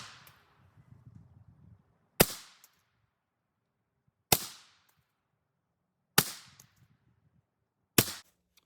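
Four rifle shots fired at a target while zeroing an offset red dot, each a sharp crack with a brief decaying echo, spaced about two seconds apart, with quiet low rumbling before the first shot.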